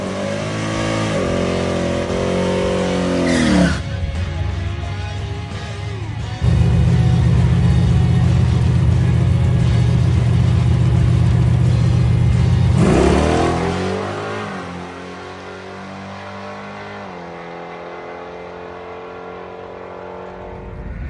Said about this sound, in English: But first, I want to make a motor hit to see where the car's at.